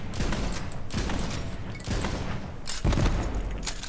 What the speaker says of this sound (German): Das ist halt nur eine Explosion.